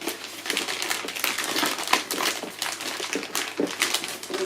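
A black package is torn open, its packaging crinkling and rustling in quick, irregular bursts at close range, fairly quiet and with no talking.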